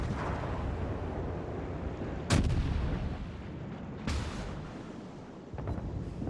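Secondary guns of a Baltimore cruiser firing in a naval combat game: three separate booming shots a couple of seconds apart, loud and close over a constant rumbling sea-battle background.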